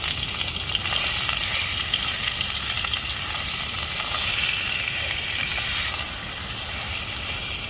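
Food fries in a pan at a woodland tent campsite, a loud, even crackling sizzle that holds steady throughout with no voices.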